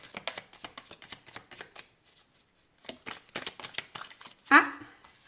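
Tarot cards being shuffled for a reading give quick, crisp riffling bursts in a steady rhythm, close and clear, pausing briefly before resuming and ending with a sharper snap.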